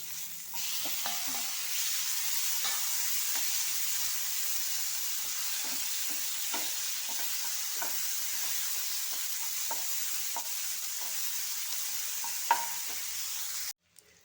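Onions frying in a frying pan with green chillies and tomato added, giving a steady close sizzle with scattered scraping stir clicks from a utensil, ending abruptly.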